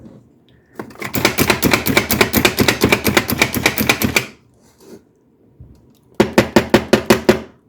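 A knife chops onions on a cutting board in a fast, loud, close run of sharp even strikes, then stops briefly before a shorter burst of chops.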